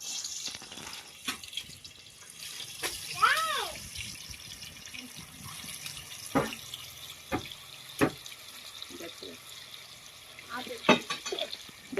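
Korameenu fish pieces frying in a pan for biryani, browning with a steady sizzle and scattered clinks and stirring sounds, while a voice speaks intermittently over the cooking.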